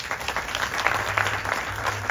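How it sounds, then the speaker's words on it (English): A small audience claps steadily and continuously for a mother, a dense patter of hands at close range with no pauses and no voices over it. "Clap for the mom."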